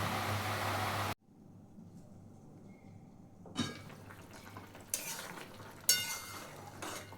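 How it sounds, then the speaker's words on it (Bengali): Okra and potato curry gravy, a Bengali home dish, simmers in a pan. A brief loud sizzle gives way to quiet bubbling, then a spoon scrapes and clinks against the pan in several separate strokes. "এবার এটা ঝোলটা ফুটতে দিয়ে দেবো।"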